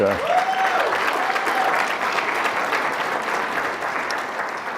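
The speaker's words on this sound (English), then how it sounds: "Jane and her team deserve a round of applause" A conference audience at a World Bank forum gives sustained applause, a dense, even wash of clapping that tapers off slowly, heard from within the hall.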